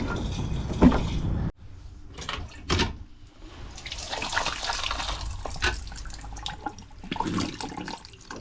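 Water running and trickling into a tank, fairly quiet and steady, with a few knocks and clunks early on.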